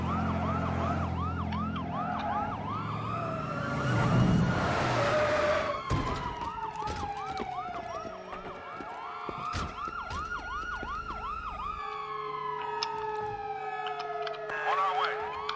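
Several emergency vehicle sirens wail and yelp at once in GTA V Online during a bank heist, overlapping continuously throughout with rising and falling tones, fairly loud amid general street ambience.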